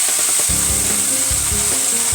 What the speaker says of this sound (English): We're going to add our kale slowly.